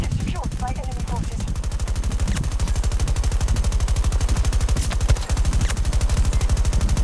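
Sustained automatic gunfire in Battlefield 2042 rattles in a fast, even stream of shots throughout, with brief voices heard early on.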